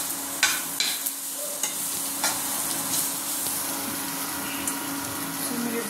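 Bread upma ingredients being broken up and stirred in a pan, with steady sizzling and scraping under faint background noise and occasional spoon clicks, no talking.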